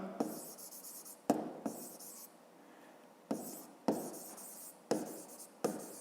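A pen writing on paper up close, in repeated short bursts of scratchy strokes with brief pauses between them, quiet and alone.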